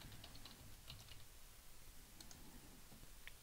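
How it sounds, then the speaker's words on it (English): A password is typed on a computer keyboard as a few faint, scattered clicks over a steady background hiss, brief and distant-sounding. "Type in our password."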